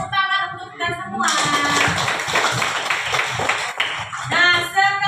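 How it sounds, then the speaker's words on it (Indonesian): A classroom of children clapping together at a teacher's call, a dense burst of hand claps for about three seconds with a sung or spoken voice before and after. "tepuk tangan untuk kita semua"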